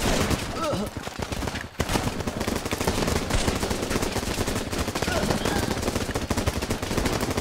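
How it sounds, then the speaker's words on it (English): Rapid gunfire rattles almost nonstop through a Running With Rifles video game battle, dense bursts of shots layered with fainter background fire and occasional voices beneath. "He's taking pot shots at the impending horde."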